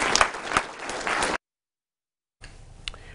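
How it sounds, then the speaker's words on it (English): A round of applause at a mayor's State of the City address: dense clapping for just over a second, then a cut to silence, then a fainter stretch of room noise with scattered claps. "I'm giving a round of applause if you don't mind"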